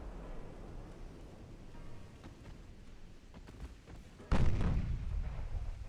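Warship 12-inch guns firing in the naval game Ultimate Admiral Dreadnoughts, a single deep, booming blast that rises abruptly out of a low rumbling background and rolls on afterward.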